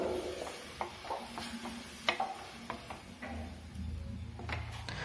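Mashed papaya stirred with ghee in a pan: quiet, irregular scraping and soft ticking strokes of a spoon over a low sizzle, close by and faint.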